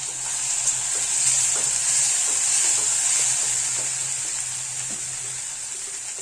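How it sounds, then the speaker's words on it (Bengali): Spice masala of dried red chili powder with ground coriander and cumin fries in hot oil, a loud, continuous high hiss with soft stirring taps, close up and without speech. "মশলাটা খুব ভালোভাবে ফ্রাই করে নিতে হবে"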